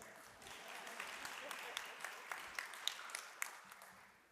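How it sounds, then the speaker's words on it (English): Audience clapping at a women's health awareness event, a thin, soft patter of hands with a few sharper individual claps standing out, fading toward the end. "You can go ahead and clap."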